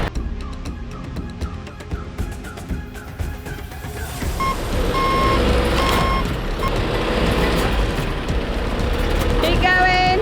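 A stuck lorry spins its wheels on wet ground, the engine roaring louder and churning steadily as reversing beeps sound at the start, with voices talking over it.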